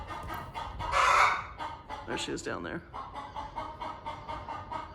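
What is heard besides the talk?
hen clucking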